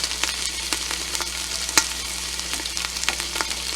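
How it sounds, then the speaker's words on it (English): Carrots, celery and onion sizzle and fry loudly in a hot pot for making a rich turkey broth, with steady crackling and a few sharp stirring clicks, no talking. "All right, now we're going to add the veggies."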